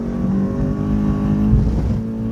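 In-car engine drone of a race car lapping Phillip Island circuit, held steady and loud for a couple of seconds with a slight surge in the middle, no talk.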